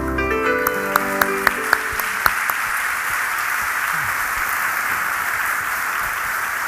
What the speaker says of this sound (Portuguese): Vamos aplaudir esse irmão.